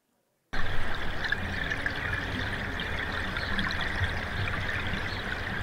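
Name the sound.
river sound in geoscience data sonification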